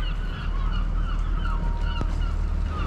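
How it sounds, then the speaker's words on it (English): Seagulls calling noisily in Cardiff city centre, repeated honking cries overlapping at mid distance above a steady urban background hum, without talk. "Oh, noisy seagulls."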